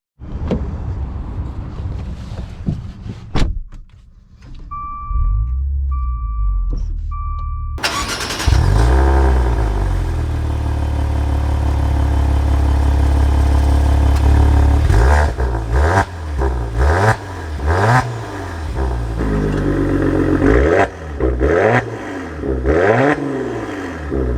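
A 2021 Maserati Levante GranLusso SUV gives a few electronic chimes in near silence, then its engine catches with a loud start and settles into a steady, throaty run as it pulls away, the engine note rising and falling with acceleration.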